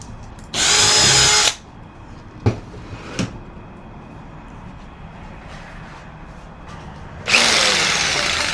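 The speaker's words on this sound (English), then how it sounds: "so I'm just going to start this pilot hole right." A cordless power drill bores a pilot hole into a truck during a 12V air conditioner install, two loud whirring bursts near the start and end with a couple of sharp clicks between, set against quiet background.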